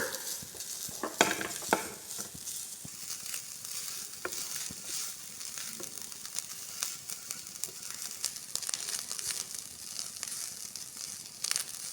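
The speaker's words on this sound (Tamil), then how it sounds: "இப்போ ஒரு கப்பு தேங்காய் ஆட் பண்ணிக்கோங்க நெய்யில் வந்து நல்லா வறுத்து எடுத்துக்கலாம்" Grated coconut frying in ghee for a traditional green gram laddu, with a steady close sizzle and crackle broken by stirring scrapes and crinkly clatter, no talk over it.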